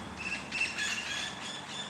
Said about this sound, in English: But I know you can hear the birds in the tree there